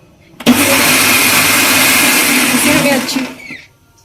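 A kitchen blender runs loud and steady for about three seconds, whirring through fried onions and tomatoes for a chicken masala curry, then spins down and stops.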